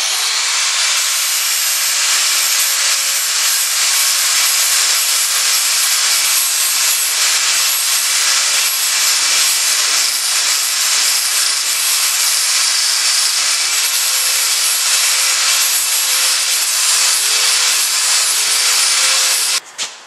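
Steady, continuous rasping of an abrasive tool working a tapered edge into a wooden electric-generating turbine blade, loud and unbroken for the whole stretch with no talk, stopping with a couple of knocks at the end.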